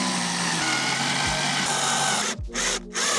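A power drill drives screws to fasten a front lip onto a 2025 Honda Civic Si, its steady loud whine shifting pitch as the trigger is eased, then briefly stopping twice near the end.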